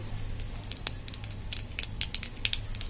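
Nigella seeds tempering in hot oil for a pabda fish curry, giving a continuous low sizzle broken by scattered sharp pops and crackles, close and moderately loud, with no speech.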